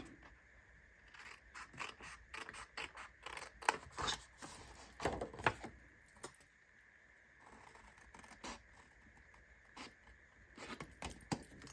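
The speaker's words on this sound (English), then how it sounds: "I'm going to grab my scissors. And I am just going to cut these outer tabs off." Scissors snip off the outer tabs of a paper card during card making, a series of crisp, close cutting clicks in irregular bursts, fairly quiet with no talking.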